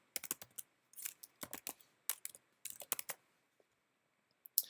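Computer keyboard typing an HTML head tag: clustered bursts of crisp keystrokes, close and clear, separated by short pauses and ending with a few isolated taps, no speech.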